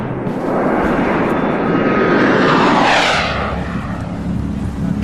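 Black stealth jets of the 37th Tactical command fly past with a loud roar that swells to a peak and then fades over a few seconds.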